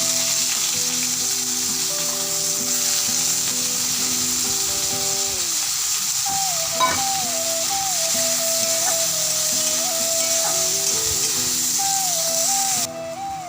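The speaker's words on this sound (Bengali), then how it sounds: "যে পেঁয়াজটা কুচি করে রেখেছি সেটা দিয়ে দেব।" Chopped onion goes into hot oil tempered with whole cumin seeds and starts frying, giving a loud, continuous close sizzle with steady hiss; a brief stir clatter partway through, and the sound drops slightly near the end.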